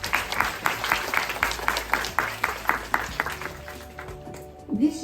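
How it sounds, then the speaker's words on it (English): At a Year 6 graduation ceremony, an audience applauds the library monitors with steady, moderately loud clapping from many hands that tapers off toward the end. "Could you give them a round of applause?"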